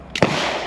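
A single sharp gunshot cracks close by at an outdoor shooting festival, followed by a long rolling echo that slowly fades.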